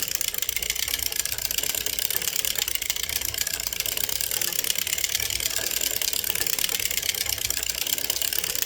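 A hand-cranked antique sock knitting machine, a type dating from the late 1800s or early 1900s, knits a sock with a steady fast mechanical clatter of needles that runs unbroken and fairly loud from start to finish.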